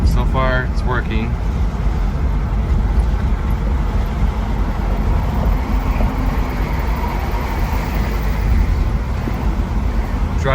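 A 1964 Buick Riviera, pulled out of 15 years of storage, cruising on the road from Long Beach: steady engine and road rumble with wind noise throughout, continuous and fairly loud, with a voice talking over it.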